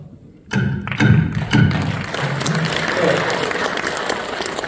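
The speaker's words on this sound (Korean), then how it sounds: "큰 격려와 박수 부탁드립니다." A crowd at a university alumni association's annual general meeting breaks into applause after a few heavy thumps, the clapping loud, dense and sustained to the end.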